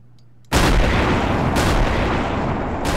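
Heavy airship guns in Garry's Mod fire high explosive rounds, a loud sustained roar of artillery blasts that bursts in after a quiet start and rolls on continuously, with fresh shots breaking through about every second.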